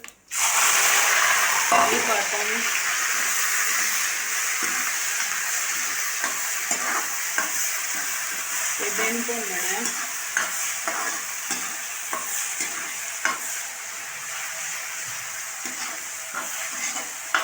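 Cumin seeds and a spice paste sizzle steadily in a pan for a vegetable curry, with scraping stirs throughout, loud and close, and a voice talking faintly underneath.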